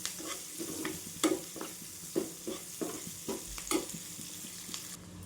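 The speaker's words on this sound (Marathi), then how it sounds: "तर कांदा पण आपल्याला छान परतून घ्यायचा." Onions sautéing in hot oil in a pan for Marathi-style mint chutney, a steady soft sizzle broken by a series of sharp clacks and scrapes from stirring, close and alone with no voices.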